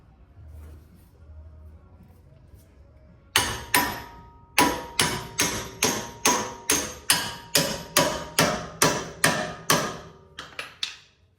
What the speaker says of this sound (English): And I got a 3-pound hammer here.